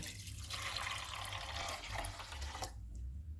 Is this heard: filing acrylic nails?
no